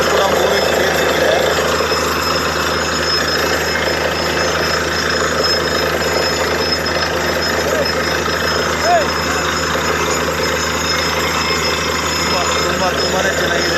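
A borewell drilling rig pushes toward 150 feet, past water struck at 70 to 80 feet, with a loud, continuous engine drone and faint knocking vibration that never lets up.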